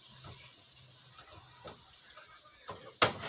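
Shrimp frying in a skillet on a stovetop set to 4, a soft steady sizzle with faint crackles and a sharper utensil clink near the end.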